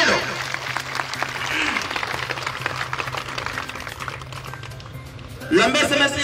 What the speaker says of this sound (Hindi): एक बार जोरदार ताली बजा के अपना अपना स्वागत करिए सभी लोग।